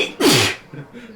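A single loud, close sneeze bursts out sharply and fades quickly, with faint background murmur after it.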